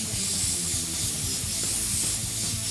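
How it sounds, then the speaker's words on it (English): Aerosol spray paint can releasing orange paint in a steady, continuous hiss that runs close and loud throughout, with slight rises and dips as the nozzle is pressed. "I'm going to spray some orange and see how well that orange comes up"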